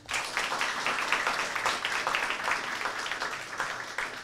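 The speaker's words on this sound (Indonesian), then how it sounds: "Boleh kita beri tepuk tangannya?" Audience applause at a live school broadcast event in Jakarta, a sustained wash of clapping from a crowd, fairly even in loudness for a few seconds.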